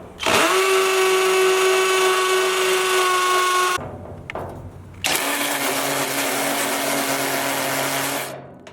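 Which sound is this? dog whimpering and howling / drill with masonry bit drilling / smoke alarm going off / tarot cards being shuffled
drill with masonry bit drilling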